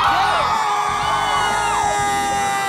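A street crowd on Braga in Bandung, Indonesia shouts and cheers loudly and steadily, with a dense wash of voices and whoops throughout, with no break or lull.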